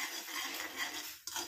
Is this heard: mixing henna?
yes